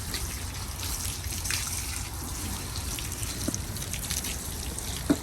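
Rinse water runs and trickles off a truck's freshly polished paint in a steady splashing stream, with a few sharper drips toward the end.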